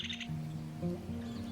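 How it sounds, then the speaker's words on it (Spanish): A chingolo (rufous-collared sparrow) sings among waterside vegetation in the Argentine littoral, giving a short, clear run of bright chirps close by over faint rustling background. "Chingolo."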